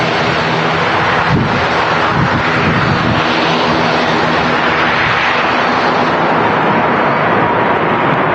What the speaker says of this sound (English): about to land here at Manchester Airport on the Friday show